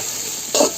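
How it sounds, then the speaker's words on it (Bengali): Chopped onion, green chilies and garlic fried lightly in a pan, a soft hiss of sizzling oil with a brief louder stir near the end. "এখন খুব ভালো করে এগুলো একটু হালকা ভেজে নেব।"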